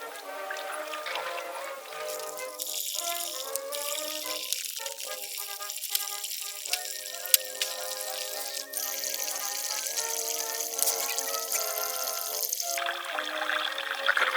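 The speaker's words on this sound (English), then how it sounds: "Get some water and fill up the pot until the meat is fully submerged." Water runs and splashes into a cooking pot holding meat, a continuous pouring trickle with occasional rattles, fairly close and heard alone.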